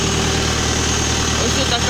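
A Forte RD-404 mini tractor engine idles just after being started, a steady loud mechanical rumble with constant vibration and no change in pace.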